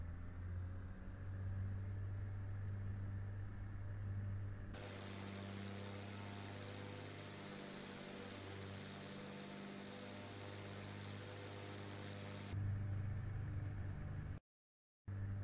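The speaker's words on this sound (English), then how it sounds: "Let's apply full power with the brakes on." Simulated piston aircraft engine in FSX run up to full power with the brakes held: a steady droning idle swells into a loud, broad roar for about eight seconds before easing back to a humming drone.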